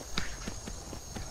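A horse in the video game Skyrim clip-clops along with a few evenly spaced hoof strikes, close and moderately loud over a steady background hiss.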